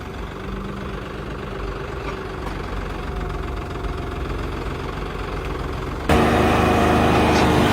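A tractor engine idles with a steady, knocking, mid-pitched chug before a sugarcane trolley is hitched, then revs noticeably louder near the end, with no talking.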